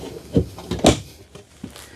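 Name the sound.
RV travel trailer drawer opening or closing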